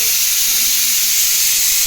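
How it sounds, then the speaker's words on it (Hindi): A pressure cooker whistle vents steam in a continuous loud hiss that holds steady throughout, close by in a home kitchen while potatoes cook. "मैडम ने सिट्टी लगवा दी कुकर पे।"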